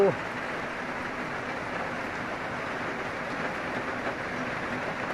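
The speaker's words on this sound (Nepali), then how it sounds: "यहाँ हेर्नुहोस् त पानी त निकै बाक्लो भयो त, पानी निकै बाक्लो आयो।" Heavy rain pours down in a steady, dense roar that holds evenly throughout.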